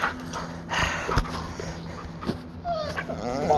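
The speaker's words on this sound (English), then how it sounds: "There's my dog." A dog whimpers in thin, high whines close by, mixed with scuffling, soft thuds and handling noise, with a rising whine toward the end.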